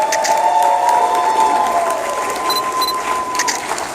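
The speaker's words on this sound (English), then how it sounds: "Give Harry a huge round of applause" A political rally crowd in Las Vegas, Nevada applauds and cheers for Senator Harry Reid, with sustained clapping, whoops and a few high shouts rising over the roar.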